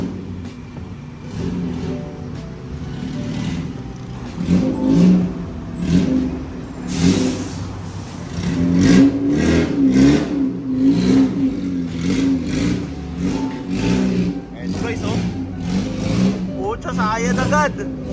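A car with an LMTLESS Manila chambered muffler exhaust rumbles and revs in repeated surges close by, with people talking over the engine.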